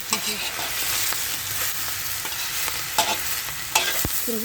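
A loud, steady hiss of egg being stir-fried in a hot pan, with the utensil scraping and clacking against the metal at irregular moments throughout, no voices.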